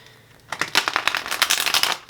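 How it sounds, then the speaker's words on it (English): A deck of tarot cards is riffled and shuffled in a quick flurry of crisp flapping snaps, close up, lasting under two seconds. "So hopefully these shuffles work out."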